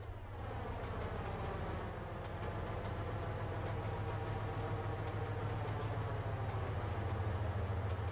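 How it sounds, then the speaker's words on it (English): A train rolls by in the Trainz Simulator 2 game on the Highland Valley Industries route, a steady loud low rumble with a faint rhythmic clatter that goes on throughout and no voices. "Oh, hey, there's that train."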